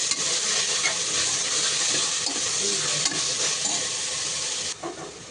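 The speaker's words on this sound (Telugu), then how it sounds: "ఇదంతా బాగా వేయించుకోవాలి." Chicken curry masala with chili powder sizzles and fries in a pan, a loud continuous hiss with faint stirring scrapes, cutting back briefly near the end.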